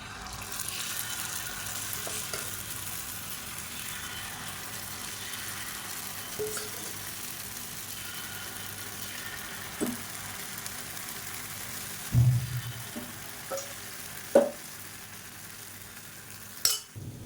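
Appam batter fries in oil, sizzling steadily at a low level, with a few faint clinks of a utensil against the pan now and then.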